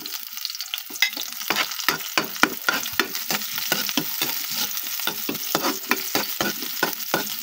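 Garlic and onion fry in a hot pan, with crackling sizzle punctuated by repeated scraping and stirring strokes close by, and no talking.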